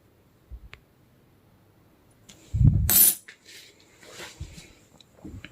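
Old British-era coins, some very thick, clink and knock as they are handled, with a loud burst of metallic jingling midway among scattered softer taps and clicks.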